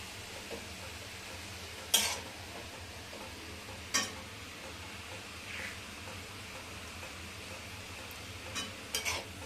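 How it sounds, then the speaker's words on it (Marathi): Carrot halwa stirred in a pan with a low, steady scraping and a faint sizzle, broken by a few sharp clinks of the utensil against the pan at intervals; no one talks. "एकदम छान असं हलवत राहायचं। हे 10 मिनिटं तरी हलवायचं आपल्याला"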